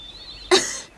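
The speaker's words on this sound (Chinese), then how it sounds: "怎么又咳嗽起来了？" A young woman lying awake indoors late at night gives a single sharp, breathy cough, short and fairly close, followed by quiet.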